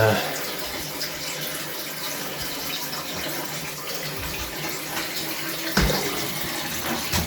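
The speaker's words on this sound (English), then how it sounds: "try and get some more water back in this rad here" Water rushes steadily into a central heating radiator in a continuous, noisy gush with a faint voice underneath, briefly surging louder near the end.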